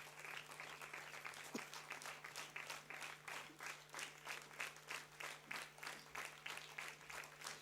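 A convocation audience claps for a best performer award winner, in even, sustained applause with a faint steady hum beneath it throughout.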